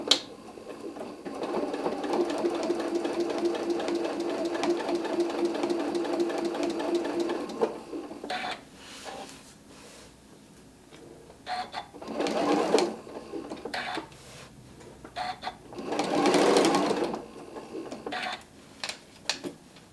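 Sewing machine stitching along the very edge of stocking fabric: a sustained close mechanical whir for several seconds, then shorter start-stop bursts and clicks as the fabric is repositioned.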